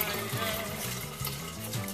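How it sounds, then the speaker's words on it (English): Hot tap water runs steadily into a kitchen sink while dog bowls are rinsed, a continuous close splashing rush with light clatter and no talk. "rinse off the bowls in hot water"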